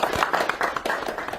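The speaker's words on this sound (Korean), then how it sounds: "이럴 때 박수 치세요." Scattered audience clapping during introductions of panelists at a Korean policy discussion, a short burst of loose, uneven claps that fades slightly toward the end.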